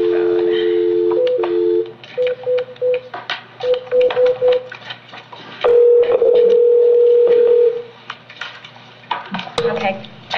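Landline telephone dial tone followed by a run of touch-tone dialing beeps and a longer tone as a call is placed in a courtroom, with a person speaking in between.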